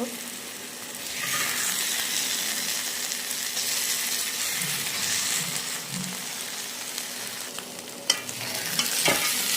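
A thick taro paste fries in oil with a steady hiss and soft bubbling, stirred now and then, ending with a couple of sharp clinks.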